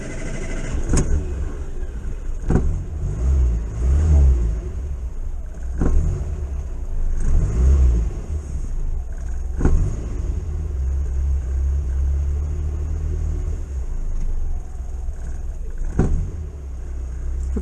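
A 1962 Morris Minor engine cranks and fires, then settles into a steady low rumbling idle with a few sharp clicks and knocks over the running motor, close by.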